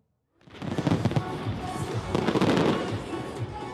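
Big New Year celebration fireworks burst in a dense, continuous barrage of crackling booms and thuds, loud and sustained after a brief moment of silence.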